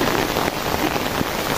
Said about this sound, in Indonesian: Hujan-hujan begini guys